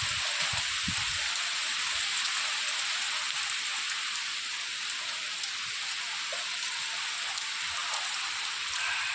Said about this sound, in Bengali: দেখবা কি বৃষ্টি হচ্ছে